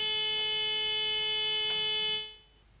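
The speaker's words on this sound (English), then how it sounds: "the processor will, on its next scan, energize output coil Y3 to which the end of cycle buzzer is wired, and the buzzer will sound" A steady electronic end-of-cycle buzzer driven by a programmable logic controller drones at an even pitch for about two seconds, then cuts off and leaves faint background hiss.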